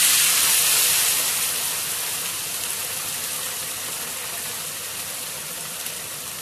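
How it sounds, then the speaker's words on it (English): Fish sizzling in hot frying oil, a dense, bright hiss loudest at first and then settling to a steady, slightly softer crackle without pause. "All this sizzling are actually the water releasing from the fish"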